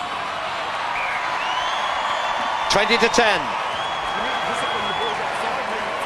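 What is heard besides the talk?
rugby stadium crowd cheering and applauding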